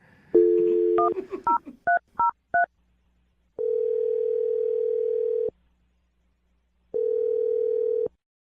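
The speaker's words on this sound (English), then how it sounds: "We're about to dial his phone number." Quick series of telephone keypad tones dialing a number, followed by two long ringback tones with a pause between.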